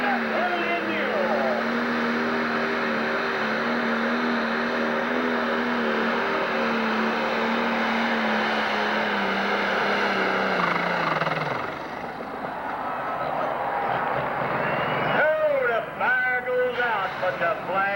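Pulling tractor, the early Mule, roaring at full power down the track at a 1997 tractor pull in Sandwich, Illinois, a steady loud engine drone that fades partway through, with an announcer talking over it.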